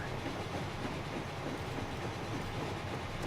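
A passenger train runs in the rail-management game Transport Fever, giving a steady, moderately quiet rolling rumble with faint clickety-clack from the wheels. It continues without break or speech.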